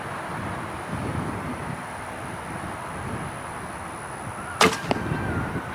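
A traditional bow looses an arrow at a target outdoors in light wind, producing one sharp, loud snap and thud near the end over a steady background rush.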